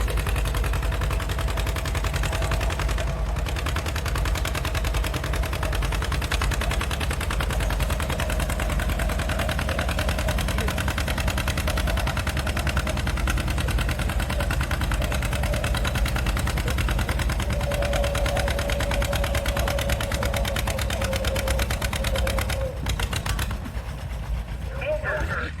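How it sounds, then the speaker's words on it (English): An Allis Chalmers WD-45 antique tractor engine labors steadily and loudly while pulling a transfer sled at an antique tractor pull, a continuous low rumble with rapid knocking pulses, beneath crowd noise and talk. "On an orange tractor, and of course that's an Allis Chalmers WD-45"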